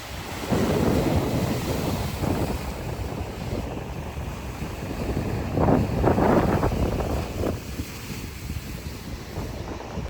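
Loud, continuous roar of crashing sea waves and surf at a Pondicherry beach, with heavy rumbling wind buffeting the microphone throughout.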